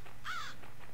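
One sharp, fairly close crow caw rings out in the game Blood Lust: Vampire Shadow Hunt, with fainter echoing traces trailing after it over a low ambient hum.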